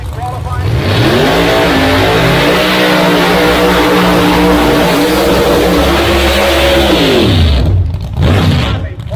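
A Chevrolet Corvette drag car at a door-slammer race holds a loud, sustained engine roar, pitch climbing and holding high for several seconds before cutting off, with a commentator talking over it.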